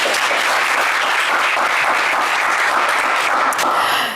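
A television game show studio audience breaks into loud, sustained applause, continuous dense clapping that holds evenly for about four seconds before easing off at the very end.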